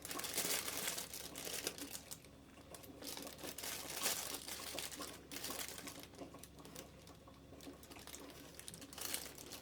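Steady crinkling and rustling of a plastic bag as a spread is put into it, close by, with irregular crackles and small rustles running throughout.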